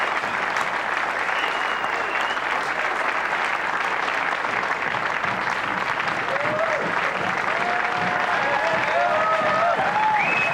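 Sustained, loud applause from an appreciative crowd at a women's professional pool match, steady clapping filling the whole stretch with a few faint voices rising near the end.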